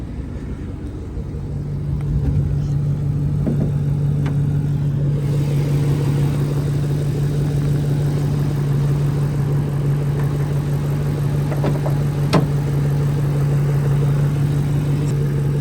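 A 2003 Ford Mustang Mach 1 engine runs with the hood open, a steady loud idle rumble with a constant low hum, close and continuous throughout with no talk.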